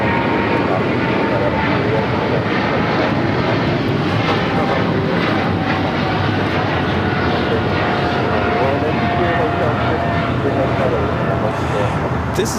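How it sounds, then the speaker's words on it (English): A China Airlines Cargo freighter takes off from LAX bound for Taipei, a loud continuous engine roar with a faint whining tone, people talking underneath throughout. "This is China Airlines Cargo 5115 taking off to Taipei"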